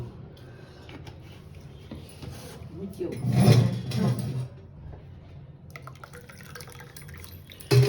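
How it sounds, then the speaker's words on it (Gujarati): Water is poured into two glasses of amla (Indian gooseberry) sharbat, a short liquid rush and splash swelling for about a second midway, heard close against quiet room noise. "અને હવે પાણી એડ કરી દઈશું."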